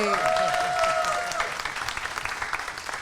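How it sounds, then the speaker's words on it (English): An audience at a panel discussion applauding, a dense wash of clapping that starts full and slowly thins out, with a brief tone fading early on. "please give a round of applause to Katie for moderating this panel"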